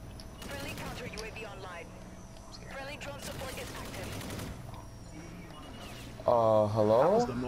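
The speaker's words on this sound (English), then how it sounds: "I got shot by my vulture" Rapid bursts of gunfire from a Vulture killstreak drone in Call of Duty: Infinite Warfare, steady and fairly loud, with a player's voice over the combat and a louder tonal swell near the end.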